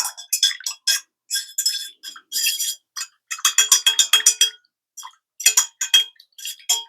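Metal or glass implement scraping around a stainless steel or glass container while arrowroot powder is stirred into calendula salve; repeated short, bright scrapes and clinks in quick irregular bursts, close and fairly loud, with no voice.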